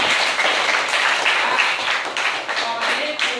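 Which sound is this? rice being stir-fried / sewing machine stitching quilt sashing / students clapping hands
students clapping hands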